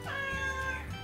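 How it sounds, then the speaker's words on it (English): A pet cat named Mr. Purry lets out one drawn-out meow indoors, close and clear, with no talk over it. "Do you hear that? That's my cat."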